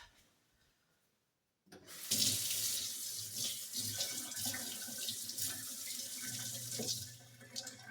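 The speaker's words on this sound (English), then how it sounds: "I'm just going to rinse off." A spoon is rinsed under a running kitchen tap: after a quiet opening, a steady, close stream of water gushes and splashes for about six seconds.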